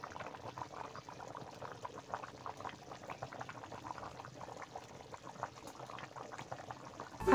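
Mutton curry with plenty of water boiling in a wok, a steady low bubbling and simmering texture with small pops, fairly quiet and continuous with no talk.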